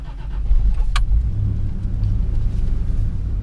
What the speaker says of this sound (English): So cold start idle is a little over 1200 RPM, making its way up to 1300 RPM.